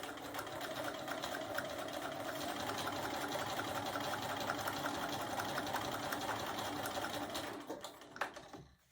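A sewing machine stitches steadily toward the corner of a scrappy mug rug, a close, continuous fast mechanical hum and patter that runs unbroken before stopping near the end.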